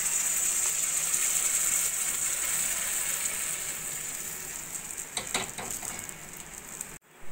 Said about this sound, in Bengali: একদম লো ফ্লেমে আমি পরোটাগুলো ভেজে নেব